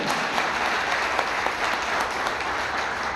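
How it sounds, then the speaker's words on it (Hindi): Dense, steady applause from an audience at a Meta Force technology program event in Nainital, filling the whole stretch loudly and evenly with no voices rising above it. "और एक बार जोरदार लाडू सर्किल और मेटाफोर्स टेक्नोलॉजी के लिए ताली होनी चाहिए"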